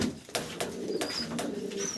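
A moulting pigeon at a breeder's farm gives soft, low cooing calls close by, with brief rustles and faint chirps of other birds mixed in.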